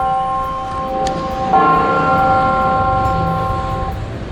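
The clock tower bell in Mussoorie strikes at noon, a clear metallic tone that sustains in a long, humming ring over faint street background noise, with no talking.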